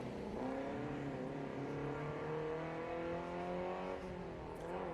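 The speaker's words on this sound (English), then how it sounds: "Ross Cuff leaving the line now in the BMW 2000." A BMW 2000 race car pulls away from the start line at a historic sprint meet, its engine note holding steady and rising through the gears, loud and continuous for the whole stretch.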